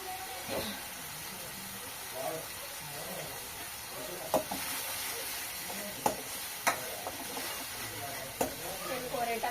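Spinach dal frying in a pan, with a steady sizzle and hiss beneath occasional scraping clicks of a spoon stirring, moderately close, while a voice talks intermittently.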